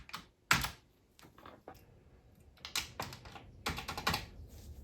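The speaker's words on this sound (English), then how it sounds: "And that is the whole keyboard fitted. So just the function keys left." Plastic 3D printed keycaps snapped one after another onto the stems of a Commodore 64 keyboard, a series of sharp, close clicks and taps in an uneven rhythm with short pauses between presses.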